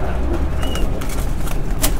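Magpie pigeons making low cooing calls in a coop, buried in loud, dense background noise with a few sharp clicks and scuffs, no clear talk over them.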